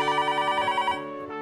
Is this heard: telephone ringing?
yes